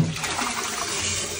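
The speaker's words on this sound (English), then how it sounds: "That faucet refills the tank when you flush it." A toilet tank refilling from a small faucet set on top of the toilet after a flush, giving a brief, close trickle and splash of running water.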